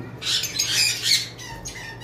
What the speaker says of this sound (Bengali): এগুলো সব সুপার টেম পাখি।